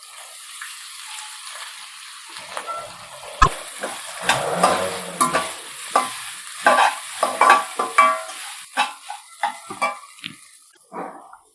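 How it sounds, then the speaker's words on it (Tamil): Grated coconut stirred into hot oil in a pan with a split dried red chili and curry leaves for South Indian coconut rice, giving a soft sizzle with repeated scraping, clattering stirs that grow busier, then fade. "இப்போ நம்ம இதில் தேங்காவை போட்டுடலாம்."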